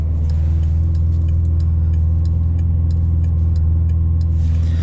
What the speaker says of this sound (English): the gigantic V12 up front is mated to a single clutch paddle shift transmission.